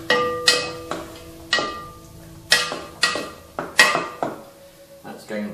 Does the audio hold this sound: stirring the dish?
yes